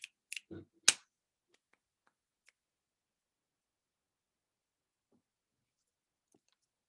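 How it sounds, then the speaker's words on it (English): A few close, sharp finger snaps and light clicks come in a quick cluster at the start, followed by near silence with only tiny faint ticks. "you might snap your fingers, clap your hands, wake up the energy"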